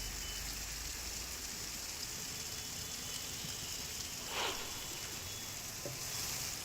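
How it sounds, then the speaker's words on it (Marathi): Heavy monsoon rain in Mumbai pours down as a dense, steady hiss that fills the whole clip at an even level, with no voices heard. "मुंबईमध्ये मुसळधार पाऊस सुरू आहे"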